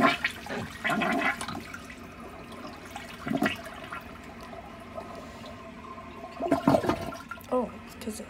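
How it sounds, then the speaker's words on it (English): Toilet flushing with the siphon jet partly unclogged, heard as several short surges of rushing water spread across the clip, moderately close, with quieter gaps between them. "if it's sort of unclogged, it has a powerful flush"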